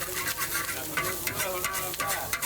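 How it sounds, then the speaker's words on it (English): Nasi goreng fried rice with anchovies and vegetables is tossed and stirred in a wok, a continuous busy scraping and sizzling with repeated clinks of the utensil. "They're making all the food in a wok."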